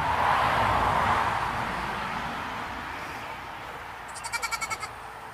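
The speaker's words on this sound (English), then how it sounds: "I'm milking a goat." A goat bleats in a short burst of several quick, wavering pulses near the end, heard on a homestead during milking, following a stretch of broad rustling and background noise with no talk.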